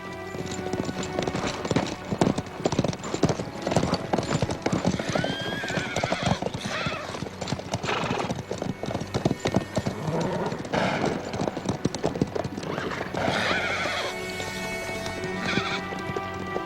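Hooves clop steadily as horses move, with repeated whinnies and neighs breaking through the rhythmic footfalls.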